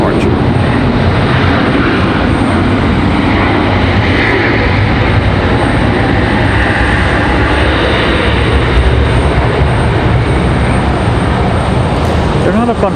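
Air Wisconsin airliner departing Raleigh-Durham International, its engines a loud, steady broadband roar filling the whole stretch, with no break in the noise.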